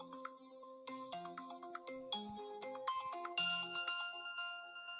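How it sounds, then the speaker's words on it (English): A short melodic jingle in the style of a breaking news intro, with bright chiming synth notes stepping through a quick phrase, fairly faint and heard on its own without voices. "That sounds like a breaking news thing"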